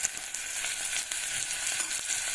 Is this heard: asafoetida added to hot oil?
yes